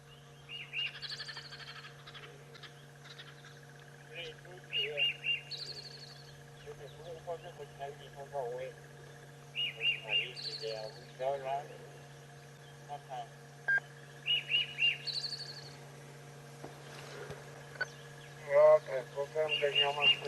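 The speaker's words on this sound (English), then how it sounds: "Now, I will play you what the robin sounds like." Recorded robin song, sweet warbling phrases repeating every few seconds from a playback device over a steady electronic hum, with short pauses between each melodic burst.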